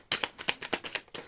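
Tarot cards being shuffled by hand in quick, crisp riffles and flicks, close and soft, a rapid run of papery snaps with no talk.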